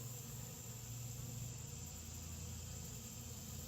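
Faint, steady buzzing of bees near a beekeeper's hand, a continuous low drone with no talking.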